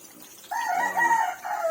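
A chicken near a backyard coop gives a short, loud crowing call lasting about a second, rising then trailing off, with faint clucking around it.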